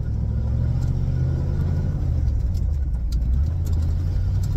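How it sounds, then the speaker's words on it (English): An old Ford farm truck pulls away in granny low gear as the clutch is let out with no throttle: a close, steady, deep engine rumble that holds an even pitch throughout. "So we'll just let off the clutch, no gas pedal, like granny low is."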